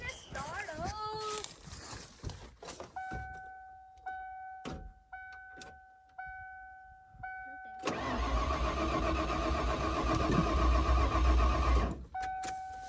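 A 1994 Ford that has sat forgotten cranks and then starts, the engine catching and running loudly near the end. Speech and tonal beeps come before it.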